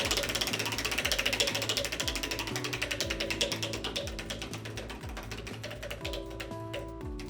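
A prize wheel on a pop culture game show spins with a rapid mechanical ratchet clicking that starts loud and fast and gradually slows and fades, alone with no voices.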